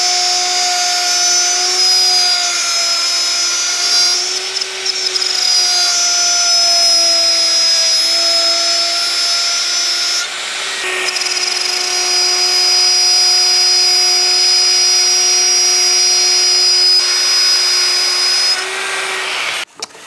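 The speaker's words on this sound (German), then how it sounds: "Ich habe bei mir einen 6 mm Nutfräser eingespannt." A wood router fitted with a 6 mm groove bit, cutting a groove, gives a loud, steady high-pitched motor whine with a slight dip in pitch partway through, then shuts off near the end. No one speaks.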